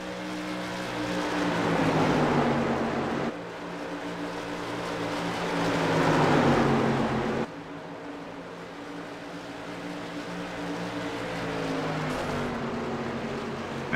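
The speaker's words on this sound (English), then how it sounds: "His engine blows." Race car engines drone and whine in an iRacing SK Modified race at Phoenix, several revving passes rising and falling with sharp cuts between them, the sound of an engine blowing among them.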